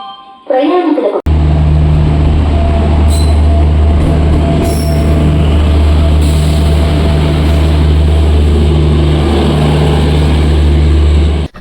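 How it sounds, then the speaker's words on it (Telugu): A train at Miryalaguda railway station produces a loud, continuous low rumble with metallic wheel squeal and clatter, heard close. A short burst of other sound comes first, then the train noise holds almost unbroken to the end. "ఈరోజు మనం మిర్యాలగూడ రైల్వే స్టేషన్లో ఉన్నాము."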